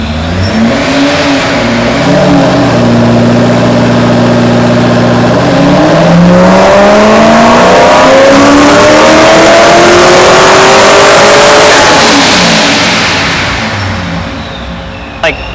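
The engine of a supercharged Corvette Z06 idles with a throbbing rumble, then revs up hard and holds a loud, rising roar before easing back down, all very close.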